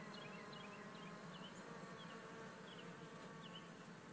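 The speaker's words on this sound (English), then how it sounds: "So eventually all these bees right here should move in" A dense, steady buzzing of a swarm of bees fills the air continuously, close and even, with faint higher chirps flickering over it.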